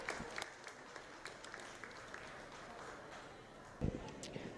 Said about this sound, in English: Let's give those kids a nice round of applause as we start our Hampshire show.